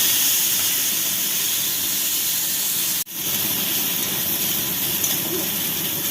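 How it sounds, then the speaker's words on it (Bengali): Potatoes, chopped onion, slit green chillies and tomato hiss loudly and steadily in a hot pan as they are stirred, a dense unbroken sizzle with a brief dip midway. "এবার আমি এর মধ্যে দিয়ে দেবো কুচানো পেঁয়াজ আর দুটো চেরা কাঁচা লঙ্কা আর দিয়ে দেবো টমেটো, দিয়ে আবার নাড়তে থাকবো"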